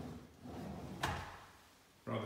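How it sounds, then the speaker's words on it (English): A soft-close kitchen drawer slides shut with a single brief bump near the middle, faint and close. "rather fabulous soft close drawers"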